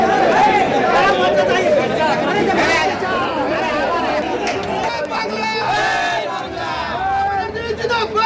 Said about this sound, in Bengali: দেখতেই পাচ্ছেন জগদ্দলে তৃণমূল বিজেপি স্লোগান যুদ্ধ